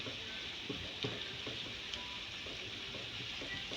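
Garlic sizzling in hot oil in a pan while samosa meat filling is cooked, a steady close frying hiss with a few soft stirring knocks and no voices.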